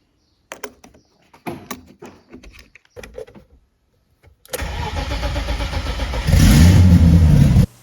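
A BMW E30 324i turbo engine cranks after some clunks and handling noises, fires up and settles into a loud, steady run, then rises briefly in pitch near the end.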